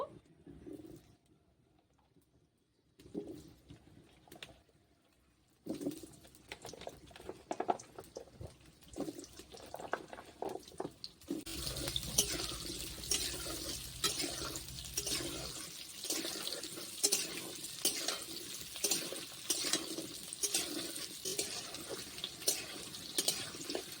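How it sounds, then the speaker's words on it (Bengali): Cut potatoes go into oil in a freshly washed wok. Quiet at first with a few clatters, then a loud, steady hissing sizzle swells up and carries on to the end, with no talking. "দিয়ে দেব তেল কেটে রাখা আলু দিয়ে দেব আলুগুলো একটু ভেজে নেব"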